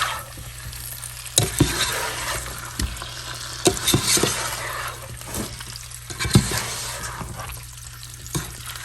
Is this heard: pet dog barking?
no